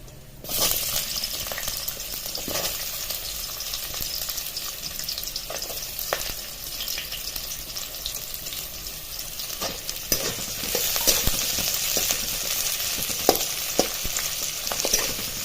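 Ginger, garlic and onion fry in a pan for a bazaar-style amti, a continuous close sizzle with sharp spatula scrapes and taps scattered through, and no speech.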